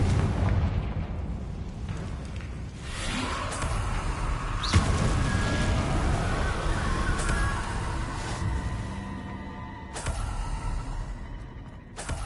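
Fiery blast spell exploding in Hogwarts Legacy, a loud booming burst with a rumbling crackle that rolls on for several seconds, followed by further sharp impacts and ringing magical effects.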